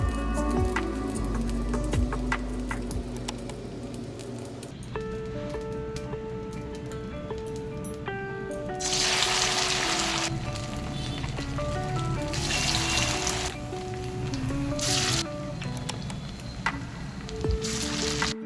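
Vada batter made from potato, poha and semolina fries in hot oil in a kadai, a steady close bubbling sizzle that swells into louder hissing bursts as pieces drop in, with no talking.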